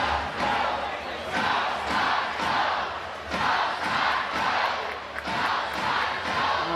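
A Belfast Giants ice hockey crowd roaring and chanting during an on-ice fight, a loud sustained arena din that swells in repeated surges.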